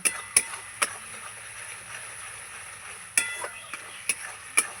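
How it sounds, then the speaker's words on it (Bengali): Spice masala for lote (Bombay duck) fish curry is stir-fried in a pan, with a soft continuous sizzle punctuated by sharp metallic clinks of a spatula striking the pan at irregular intervals. "মশলাটাকে ভালো করে আমি কষিয়ে নেব"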